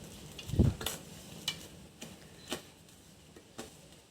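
Chopped onions go into a cooker for a coconut-milk ash gourd stew, a soft thump and stir followed by faint crackling ticks and light sizzle at intervals, quiet and close.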